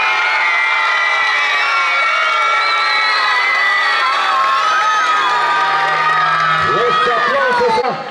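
A crowd at a Huaylas dance contest in Huancayo cheers, whoops and shouts for a competing dance couple, with a loud, sustained roar of voices and high shrill calls.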